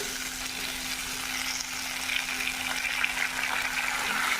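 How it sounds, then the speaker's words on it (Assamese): Boiled green peas frying in oil with onions for matar paneer, giving a constant close hissing sizzle that swells slightly in the second half, with no speech. "এতিয়া 4-5 মিনিট সময় মটৰখিনি ভাজিম"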